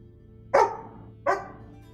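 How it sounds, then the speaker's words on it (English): Two sharp barks from a dog named Kiara, indoors and fairly close, spaced under a second apart over a quiet background hum. "Stop barking."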